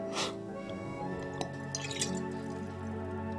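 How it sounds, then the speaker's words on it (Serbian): Water drips in a few soft, quiet drops over a faint sustained hum, close and subdued. "A ovo je voda."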